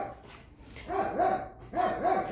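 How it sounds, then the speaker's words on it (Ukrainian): Neighbours' dogs bark in two close bursts of several yaps each, loud and near, with a short quiet gap between them and no talk. "Такі розговорчиві у нас сусідські собаки дуже-дуже люблять прийняти участь скрізь."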